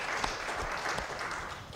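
Ongoing audience applause at a community event honoring previvors, a steady, fairly soft wash of many hands clapping, with a few sharper individual claps standing out.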